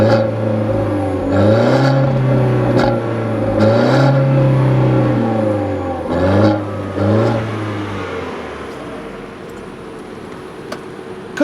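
A turbocharged 1.4-litre engine in a 2014 Fiat 500L revs up through several gears, each pull rising in pitch before dropping at the shift, heard from inside the cabin and easing to a steady cruise hum toward the end.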